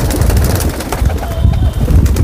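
Pigeons cooing and flapping nearby, soft repeated coos over a busy outdoor background with brief wing flutters.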